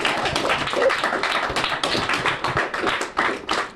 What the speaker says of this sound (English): class, can we just give Ms. Heap a big round of applause?